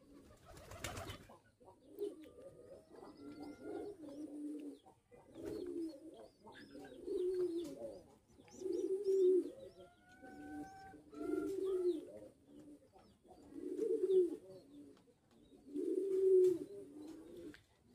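Pigeons cooing close by near a nest of chicks, low throaty coos repeating in a steady rhythm of roughly every two seconds, with faint chirps in the background.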